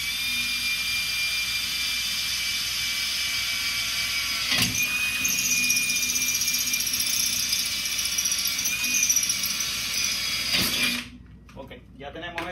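A power drill bores a hole into a concrete wall, whining steadily and loudly throughout, then cutting off near the end.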